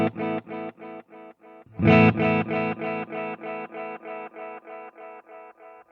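Guitar chords run through a pedalboard of distortion and modulation effects, struck in a steady rhythm of repeated stabs, then a louder strum whose repeating tail decays with a degraded, wobbly character, played alone without talk.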